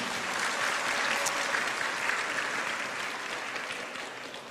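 A university discussion audience in Yogyakarta gives steady, dense applause, a full crowd clapping continuously and gradually easing off.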